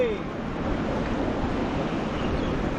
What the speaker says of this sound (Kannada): ಎರಡು ನದಿಗಳು ಇಲ್ಲಿ ಸೇರುತ್ತವೆ